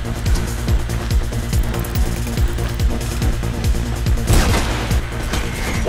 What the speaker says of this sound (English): I heard gunshots and that bird seemed a little too curious.